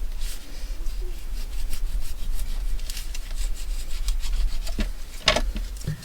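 A blade cuts into a board game board, a close, rough rasping and scraping like sawing or filing, continuing steadily for several seconds with a few sharper scratches toward the end.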